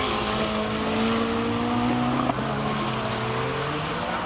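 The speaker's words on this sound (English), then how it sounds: "Davy Hubert in the Lotus with a Honda engine. That's the Exige." Lotus Exige fitted with a Honda engine climbing a hillclimb course, a steady engine note rising through the gears with one brief click midway, heard at a moderate distance.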